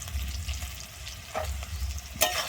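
Onions fry with chopped green chilli and salt for a Bengali fish curry: a continuous close sizzle with soft spatula scrapes and one sharper clatter near the end, no voices.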